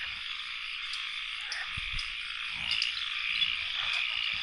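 Frogs croak steadily in a rain-soaked forest, a dense, continuous chorus of rasping calls close around, with heavy rain hiss underneath and no voices.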